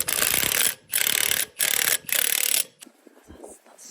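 An impact driver spins threaded bar down through a concrete panel's lifting eye, four loud sustained bursts of grinding rattle with short gaps, then quieter clicks and handling noise.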